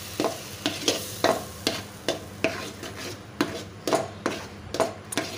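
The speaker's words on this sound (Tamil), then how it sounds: "இப்போ நம்ம இதை வணக்க ஆரம்பிச்சிடலாம்" A ladle stirs a thick cooked mango mixture in a pan, making a regular run of about a dozen close, scraping strokes, each a short swish against the metal, with a faint sizzle underneath and no voices.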